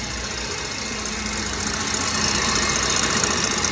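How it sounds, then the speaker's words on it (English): A KitchenAid stand mixer whips meringue at top speed 10, giving a steady close motor whir with a constant rattling hum that grows slightly louder over a few seconds. "my little KitchenAid is at 10, okay? It is going."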